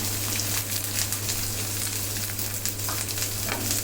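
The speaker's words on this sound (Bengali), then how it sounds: "পেঁয়াজটাকেও একটু সতে করে নিব" Chopped onion sautés with roasted cashews in a pan. A dense, loud sizzle fills the whole stretch, broken by frequent crackles and the scrape of stirring. No one speaks.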